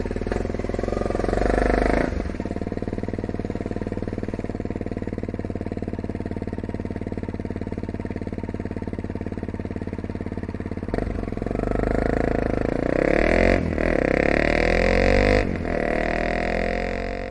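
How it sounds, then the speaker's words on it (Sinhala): A motorcycle engine runs steadily and loud for the whole stretch, idling with a few short revs and throttle blips near the end, heard alone with no talk. "මම බැලුවා මොකද මේ බයික් එකේ සද්දෙ මෙච්චර කලබල කියලා."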